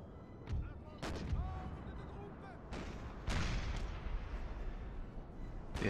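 Cannon artillery fire in Napoleon: Total War with the NTW mod, several sharp booming shots at about 0.5, 1, 2.7, 3.3 and 5.9 seconds over a steady din of battle, with a voice talking faintly underneath.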